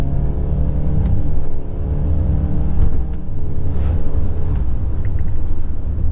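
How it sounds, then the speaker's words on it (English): A Mitsubishi Eclipse Cross 1.5T with a CVT is pushed at full throttle, giving a loud, steady engine drone that holds a near-constant pitch with a droning rumble underneath and no talk. "I'm gonna floor it here in a second, but I'm in third gear on the CVT"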